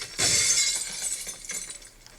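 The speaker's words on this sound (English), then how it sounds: "it's got the proper sound effects on it because we told it was glass" Glass shatters in a video game level as a breakable glass pane is smashed, a loud bright crash at the start followed by tinkling shards scattering and settling, with no talk.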